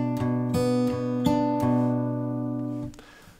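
A guitar plays the opening bar of a song, a few clean plucked notes ringing in a steady rhythm, close and clear, with the final note fading out.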